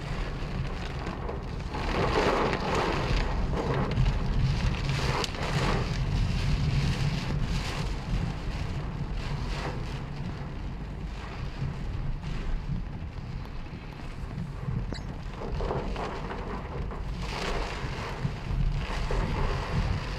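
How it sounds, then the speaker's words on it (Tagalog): Strong, steady wind roars and buffets throughout, with a continuous rushing hiss of rain mixed in; no voices. "Medyo humina-hina na po yung ulan at hangin."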